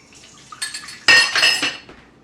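Tap water being added to an egg yolk in a bowl, heard as a few light clinks and a brief splashy pour against the dish, with no talking.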